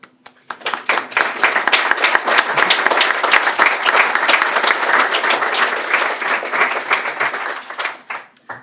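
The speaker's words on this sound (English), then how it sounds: "I think that we owe them all a big round of applause." A large conference keynote audience applauds steadily for several seconds, dense clapping swelling quickly and holding at full strength before tapering off at the end.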